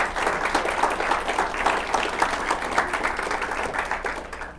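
An audience at a Chicago Federalist Society talk applauds a speaker being welcomed, a steady dense wash of clapping that holds at an even level throughout.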